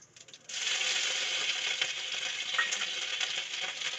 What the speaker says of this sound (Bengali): তেল গরম হয়ে গেছে, এর মধ্যে দিয়ে দিচ্ছি মৌরি অল্প, তারপর দিয়ে দেবো আদা